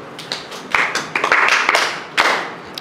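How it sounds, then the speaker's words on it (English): A small club audience at a storytelling session claps for a few seconds, building from scattered taps into dense, close applause that then thins out. "Clap for wisdom."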